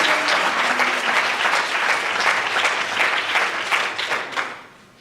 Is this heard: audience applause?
yes